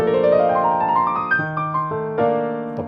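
A Dexibell ViVO S10 digital piano plays its USA Platinum acoustic piano sound, with a rich chord and a few ringing notes sustained close and clear over three seconds, with no voices.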